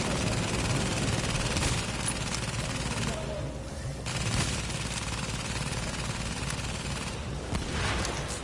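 Sustained gunfire in the shooter game The Division, continuous dense bursts and loud rattling across the whole stretch, with only a brief lull partway through.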